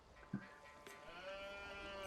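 Sheep bleating in a video game with a snowy biome map, a single short bleat rising briefly over a steady layer of game music and ambience.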